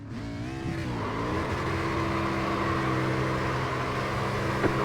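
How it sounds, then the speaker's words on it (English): An SRX race car in iRacing does a burnout at New Hampshire's road course, a steady loud engine drone with a sustained tire squeal running alone across the clip. "Do a proper burnout for the celebration."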